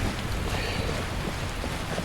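Steady rain pours during a thunderstorm in Skyrim, a dense, continuous wash of falling water with low rumbling underneath, loud and unbroken throughout with no talking.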